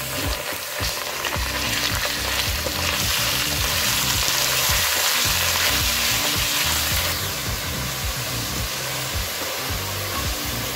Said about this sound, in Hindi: कीमे को भी इसके साथ फ्राई कर लेंगे।